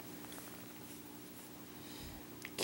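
Domestic cat purring close up, a soft rhythmic low rumble repeating steadily and faint overall, ending with a brief louder rustle.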